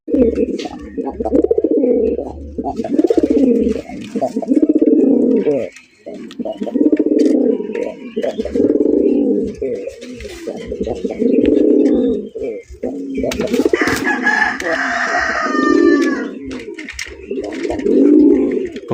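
Rasgolla pigeons on a farm coo in repeated deep, throaty rolling phrases, close and loud, with short pauses between calls and a few higher chirps partway through.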